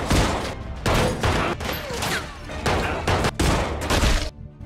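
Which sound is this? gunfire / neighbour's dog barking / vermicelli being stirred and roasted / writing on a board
gunfire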